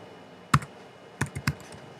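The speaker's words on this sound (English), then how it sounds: "I'm just going to go ahead and, much easier, go ahead and type it out" A few quick, crisp keystrokes on a Mac computer keyboard, one sharp tap followed by a short cluster of three clicks, close and clear in a quiet room.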